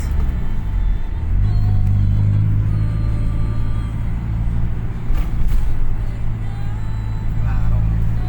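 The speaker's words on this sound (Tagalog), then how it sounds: "Grabe na ang traffic ng Mindanao Avenue guys." Heavy traffic on Mindanao Avenue rumbles steadily nearby, engines idling and vehicles creeping past in a continuous low drone, with people talking over it.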